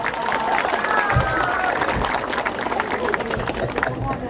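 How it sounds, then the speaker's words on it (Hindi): A crowd at a Shiv Sena North Indian gathering in Appapada, Malad, claps steadily for a few seconds, dense and fairly loud, with cheering and murmuring voices mixed in. "जरा मिथुन सिंह जी के लिए जोरदार ताली बजाओ लोग जरा"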